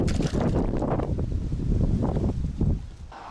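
Wind gusts buffet the microphone beside a carp fishing pond, a loud rumbling, uneven whoosh that surges and eases in waves before dropping away at the end.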